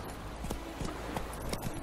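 A horse gallops across open ground in The Witcher 3: The Wild Hunt, its hoofbeats landing in a quick, even clip-clop rhythm close by, heard alone with no voices.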